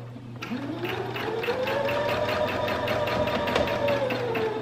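A sewing machine stitches a fabric project bag, starting abruptly and running in a steady rapid rhythm at a constant pace, close and clear with no talking.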